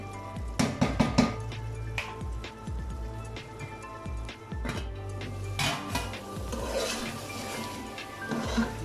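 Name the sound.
chicken masala being stir-fried in a pot for biryani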